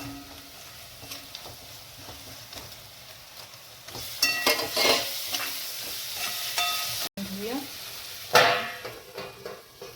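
A pan sizzles and frying grows louder as tomatoes are added, with a few clinks and scraping stirs over the crackle.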